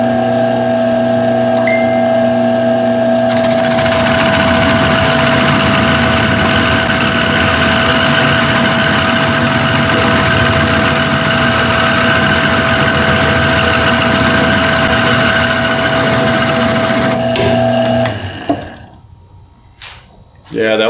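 A woodturning lathe spins a turned wooden box while a texturing tool cuts a crisscross pattern, a steady close motor hum with a rough, buzzing cutting noise over it that stops near the end.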